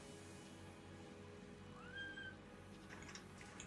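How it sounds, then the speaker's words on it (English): A grumpy cat gives a short, faint, drawn-out meow once, set against a steady indoor hum and low background noise. "Little kitty cat's all grumpy."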